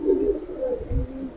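Pigeons at a sale coo close by, with low throaty burbling calls repeating over a short span amid a faint background murmur.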